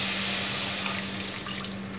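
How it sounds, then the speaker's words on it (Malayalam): Coconut milk is poured into a fish curry masala for a Kerala-style fish molly, giving a steady liquid splash and flow with a constant low hum beneath it that slowly fades. "നമുക്കിതിലോട്ട് തേങ്ങാപ്പാൽ ഒഴിച്ചു കൊടുക്കാം."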